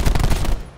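Rapid automatic gunfire in the video game Black Ops 4, a short close burst of quick repeated shots.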